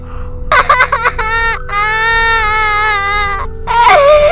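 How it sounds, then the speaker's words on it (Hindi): A woman cries at night as a horror-story sound effect: loud, sobbing wails with a stuttering start, then a long, sustained, quavering cry and a final rising sob. "तभी अचानक किसी के रोने की आवाज आती है।"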